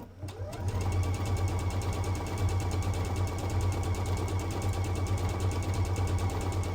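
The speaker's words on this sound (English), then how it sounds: "So then you can just really put the pedal to the metal with this, because you're basically just stitching in a straight line." A sewing machine runs at high speed stitching a straight line, its rapid even needle clatter starting after a brief quiet moment and then continuing loud and steady.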